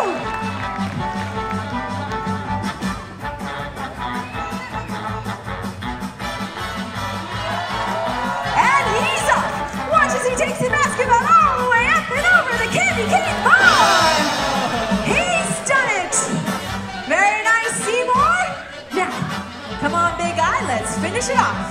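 Audience at a SeaWorld San Diego Christmas show with sea lions Clyde and Seamore cheering and whooping loudly, swelling in the middle amid music and voices, with a host talking over the crowd noise.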